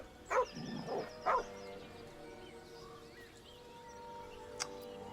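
A dog barks in Baldur's Gate 3: two short, sharp woofs in the first half and a faint yip near the end, set over a low game ambience, fairly close and moderately loud.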